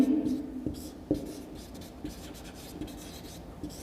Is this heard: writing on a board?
yes